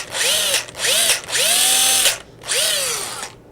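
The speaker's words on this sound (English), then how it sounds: "we are going to drill the center out of this potato using one of these drill bits" An electric drill with a bit bores out the centre of a potato, its motor whining up and down in four loud, close bursts separated by brief pauses.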